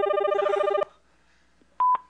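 Telephone keypad tones during a live call-in show: a sustained multi-tone chime, then after a pause two short, loud beeps in quick succession, with no one talking.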